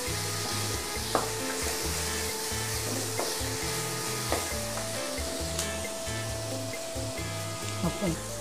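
Cumin seeds and black pepper sizzle and crackle in hot oil while being stirred, for an egg curry; steady frying hiss runs throughout, with periodic scrapes of a spoon and a low hum underneath.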